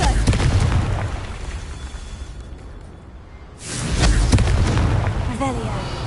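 A Confringo fire spell from the video game Hogwarts Legacy goes off in loud bursts of booming, crackling explosion noise, dipping briefly before a second strong blast, with game sound filling the whole clip.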